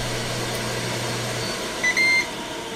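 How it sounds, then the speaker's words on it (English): Under a steady hum from a Ninja Foodi electric grill, a short electronic beep sounds twice in quick succession near the end as its timer finishes. "When the time's up, the unit beeps and you'll see end displayed on the screen."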